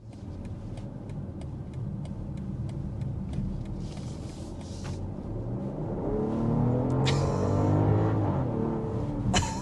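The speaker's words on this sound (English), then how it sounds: "a little quick jab of the accelerator" A 2024 BMW X5 40i engine answers a quick jab of the accelerator, rising from a low idle into a brief, louder rev that swells and then fades, heard fairly close with faint ticking earlier.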